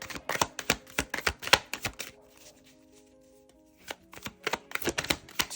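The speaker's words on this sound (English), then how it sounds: "Here, I'm trying to shuffle." Tarot or playing cards being shuffled by hand in a quiet room, giving bursts of rapid papery riffling and slapping, a pause of near silence in the middle, then another flurry of shuffling.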